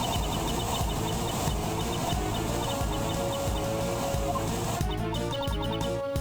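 In the Ace Attorney Investigations 2 video game, a tape recording of a flame plays as a dense, steady crackling hiss with chirping, insect-like flickers, constant in level and loud throughout.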